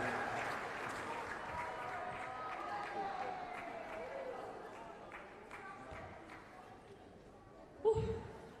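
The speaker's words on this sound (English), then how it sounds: "please one more round of applause while they're there together as a group" A crowd applauds faintly and steadily in an indoor venue after the 2019 Netball Premier League Opens grand final between Central Coast Heart and ERNA Hawks, with a louder thump near the end.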